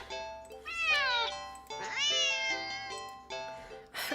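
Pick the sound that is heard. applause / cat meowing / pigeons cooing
cat meowing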